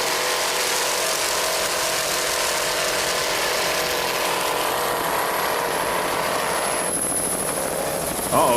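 B-22 Instigator, a B-class racing powerboat at the 1993 Lake of the Ozarks Challenge, slowing down: a loud, steady, rattling engine drone with a gear-like chatter that holds throughout and swells slightly at the end.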